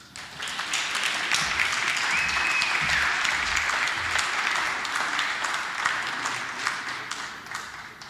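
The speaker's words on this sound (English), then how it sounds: "invite Dr. Nzimande to the stage with a huge round of applause" A large crowd at an official infrastructure opening applauds as a minister is welcomed to the stage, loud sustained clapping that stays strong and even, with a brief whistle heard early on.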